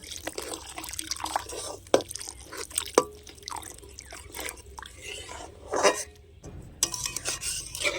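Milk is poured little by little into semolina in a bowl and stirred, giving soft liquid trickles, drips and scraping stirs with small clinks, close by and uneven.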